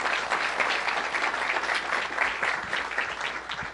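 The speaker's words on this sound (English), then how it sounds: "How about a round of applause for that?" Audience applause at a workplace safety meeting, a sustained burst of many hands clapping at moderate distance, steady and even for the whole stretch with no voices over it.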